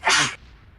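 A woman sneezes once, a short, sharp burst close to the microphone that drops into quiet room tone.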